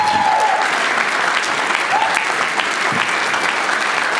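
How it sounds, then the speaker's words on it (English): Audience applause at an annual dinner, a dense even wash of many hands clapping throughout, close and full, with faint voices calling out once or twice amid the clapping. "So everybody give a big round of applause for Justin Anderson."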